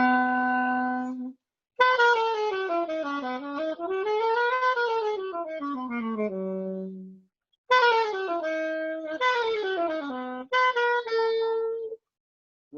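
A bebop scale is played on a melodic instrument: a descending Mixolydian run with an added half step, in clean sustained phrases that rise and fall, separated by short silences.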